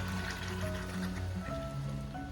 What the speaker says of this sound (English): Mug full of water here